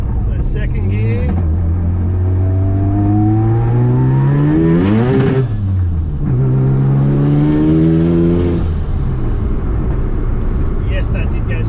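A Mazda RX7 accelerates hard in second gear, its loud, close engine note climbing steadily in pitch, dipping briefly around midway, then surging upward again before easing off at the end.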